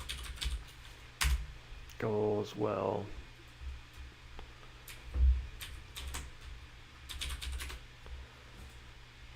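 Typing on a computer keyboard during a live coding stream, quick bursts of clicking keystrokes at close range, with someone speaking briefly between them.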